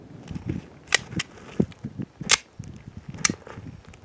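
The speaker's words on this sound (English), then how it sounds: "he's going to decock it, so the first shot will be double action" Pistol shots from a Wilson Combat Beretta 92G at a range, the first fired double action, sharp cracks at intervals over quieter clicking and handling noise.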